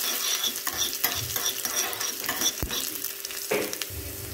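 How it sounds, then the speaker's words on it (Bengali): Chopped garlic and ginger sizzle in a pan over low heat while a spatula stirs and scrapes in irregular strokes, a steady frying hiss under repeated clinks and scrapes. "রসুন কুচি, সাথে দিয়ে দিলাম আদা কুচি, দিয়ে একটু ভালো করে এর সঙ্গে নাড়াচাড়া করে ভেজে নেব"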